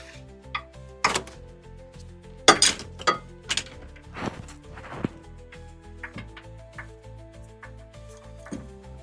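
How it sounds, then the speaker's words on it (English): A breaker bar on a 24 mm socket loosens the remote oil filter bolt on a MK3 Supra, giving a few sharp metallic clicks and clanks in separate bursts, close by against a quiet background. "Put our 24 on there. I'm using a breaker bar so that way I can loosen it a lot easier."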